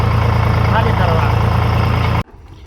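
A tractor engine runs close by during unloading, a loud, steady low rumble under someone talking that cuts out abruptly near the end.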